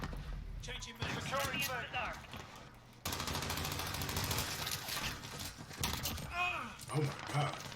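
Shotgun blasts in Call of Duty: Modern Warfare gameplay, a few sharp booming shots with other game noise, under someone talking.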